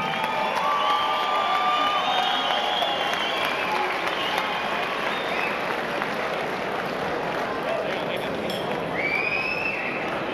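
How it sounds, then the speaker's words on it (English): Applause and cheering from a boxing crowd for boxer Codey Hanna after a title fight, a sustained wash of clapping that stays loud and even throughout, with voices and shouts in the mix. "one more round of applause for the warrior, Codey Hanna"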